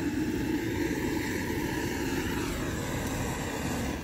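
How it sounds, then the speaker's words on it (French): A gas burner roars steadily inside a makeshift charcoal forge built from a metal bucket with refractory lining, a continuous broad rushing hiss with no pauses, close and moderately loud. "Je rajoute du gaz."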